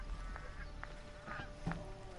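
Geese honking in the video game Horizon Zero Dawn, a few short separate honks over a steady ambient game background, moderately near.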